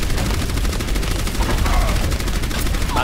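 Rapid, continuous gunfire from Orisa's weapon in Overwatch, a dense unbroken stream of loud shots with no pause, mixed with game effects.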